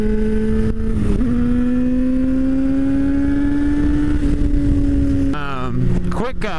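A Dodge car engine drones steadily and loud nearby, its pitch rising slowly as it accelerates, then shifts in tone as it pulls past, heard alongside other road vehicle noise.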